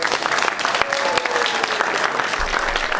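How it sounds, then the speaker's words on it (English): Audience applause at a music cafe during a music festival: dense, steady clapping from a small crowd for the full length, fairly close, with a faint voice underneath. "So let's hear one more time for Frank"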